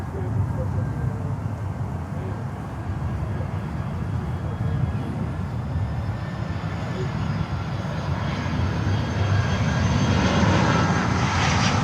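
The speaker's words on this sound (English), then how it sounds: "that's the 320 with no flight information that's coming in" An Airbus A320 airliner arriving at Miami airport, its broad engine roar holding steady and building slightly toward the end, with a voice talking over it.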